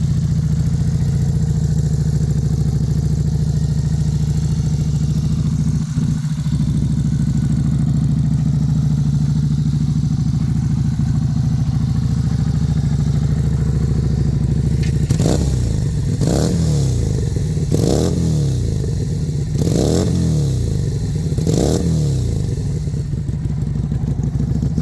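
An ITALMOTO Tiquattro 250 cc two-cylinder motorcycle idles loudly and steadily up close, then gets several sharp throttle blips in quick succession near the end, each rev rising and falling back to idle.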